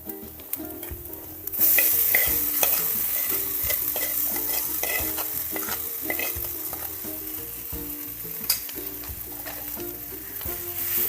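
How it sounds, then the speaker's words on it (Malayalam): Coconut, chili, cooked green gram and banana flower sizzle and crackle in a pan for a Kerala thoran, with a spoon scraping and stirring in irregular strokes; loud, close and steady after a quieter opening second. "ഇതിലേക്ക് നമുക്ക് ഈ ചെറുപയറും വാഴക്കുടപ്പനും കൂടി വേവിച്ച് വെച്ചത് ഇട്ടുകൊടുക്കാം"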